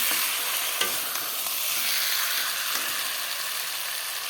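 Potatoes fry with spices in a pan of oil for a katla fish curry, giving an even, steady close sizzle with a few knocks of a stirring spoon and no voices.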